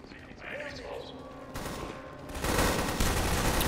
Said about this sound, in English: Calm down, I'm just shooting you.